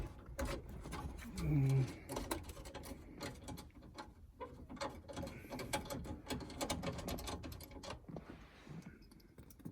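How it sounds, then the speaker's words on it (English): Screws being undone from the factory roof-mounted LCD screen of a 2010 Toyota Prado Kakadu, giving small clicking, ratcheting mechanical sounds close by, repeating unevenly for several seconds with no talk. "Then on this side, just unscrew."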